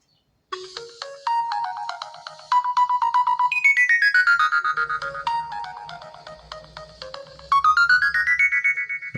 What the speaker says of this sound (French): la sonnerie du téléphone.